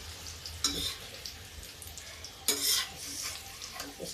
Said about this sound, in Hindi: तो अब हम चिप्स निकाल लेते हैं।